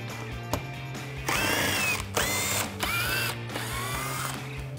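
A power driver backs 7mm screws out of the grille on a 2018-2020 Mustang, making several whirring bursts of a second or so each, with a pitch that rises as it spins, over a steady low hum close by.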